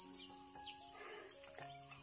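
Crickets chirping at night outside a rural home, a constant high, dense trill holding steady throughout, with faint scattered bird or insect calls underneath and no voices.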